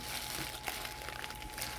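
Crinkling of a thin plastic market bag filled with washed okra as it is tied tightly shut for freezing, a close, steady rustle with a few sharper crackles and no talk.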